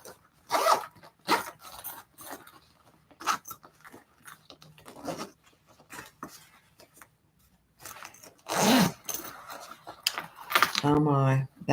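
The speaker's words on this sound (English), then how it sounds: "Let's make sure it zips without getting caught on anything." Zipper on a handmade crossbody bag being pulled open and closed in several quick, close rasping runs, with a person speaking between them.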